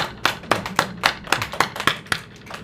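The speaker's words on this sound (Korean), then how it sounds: "우리 박수 한번 쳐줍시다." A church congregation claps in steady unison, a string of sharp, evenly spaced hand claps about four per second, close and distinct, with no talk over them.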